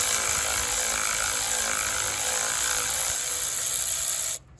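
A power tool whirs steadily, close and loud, while backing out screws on an intercooler hose fitting of a 2008 Acura RDX turbo, running continuously before cutting off abruptly near the end.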